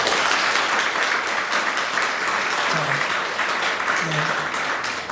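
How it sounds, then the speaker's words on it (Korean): Congregation applauding to congratulate honorees at a Korean church ceremony for installing honorary elders and deaconesses, a steady dense wash of clapping sustained throughout, with faint voices underneath. "우리 먼저 인사하실 때 박수로 축하해 주시기 바라고요"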